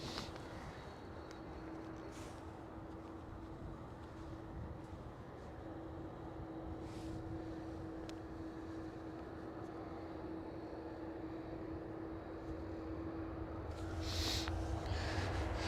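A KLM Boeing 737 airliner departs from Schiphol airport, a distant, steady jet roar with a sustained engine whine that swells toward the end.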